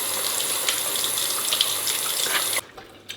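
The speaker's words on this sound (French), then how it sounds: "Je me lave les mains" A bathroom tap runs in a loud, steady stream as hands are washed under it, then the flow cuts off abruptly near the end, leaving a few faint drips and splashes.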